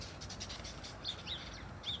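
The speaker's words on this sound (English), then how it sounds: "I hear the birds now." Birds chirp outdoors on a bright spring day, several short high tweets spaced apart over a faint, steady background hush, fairly distant.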